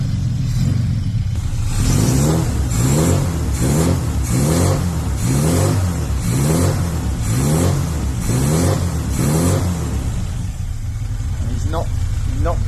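Classic Mini engine, just after valve clearance and timing adjustment, revved repeatedly up close in a steady rhythm of rising and falling bursts, then settling toward idle, with talk alongside.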